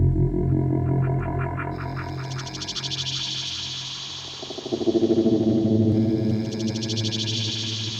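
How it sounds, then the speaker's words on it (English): Synth track sequenced on a Polyend Tracker, soaked in heavy delay, with pulsing repeated notes and a bright buzzy upper layer swelling in and out over a steady low drone, continuous and fairly loud with no voices. "And then I put a lot of delay on it"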